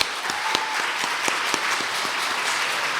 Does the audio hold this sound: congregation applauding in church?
yes